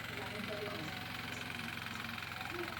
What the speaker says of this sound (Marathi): मुलासुद्धा आता ट्रॅक्टर चालवूचा प्रयत्न करतात